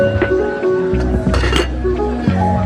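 Metal pots and pans clink and clatter close by, with ringing tones and a few sharp knocks in quick succession.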